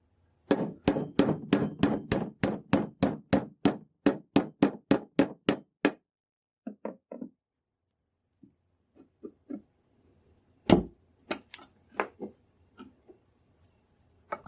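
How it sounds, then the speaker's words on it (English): A hammer drives the rear sight pin out of a Mannlicher 95 rifle supported on blocks at a workbench: a rapid run of about fifteen sharp metallic taps, then scattered lighter taps and one hard strike, close and without talk. "I'll support it with blocks and drive the rear sight pin out."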